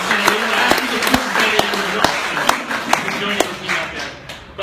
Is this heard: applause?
yes